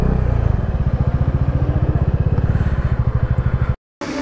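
A motorbike engine idles nearby with a steady pulsing chug on a mountain road in Sikkim, then cuts out briefly before starting up again at the end.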